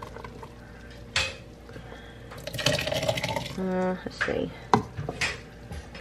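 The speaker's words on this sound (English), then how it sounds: "I'm just gonna dip it out and put it into my blender." Soup is ladled out of a pot into a blender in a home kitchen, with clanks of a ladle on metal, liquid pouring and splashing, and a few knocks, while someone speaks briefly.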